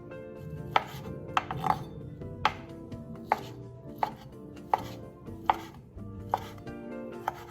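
A knife chops through pork belly on a board, sharp, close strikes landing at an even pace about every second, with no talking.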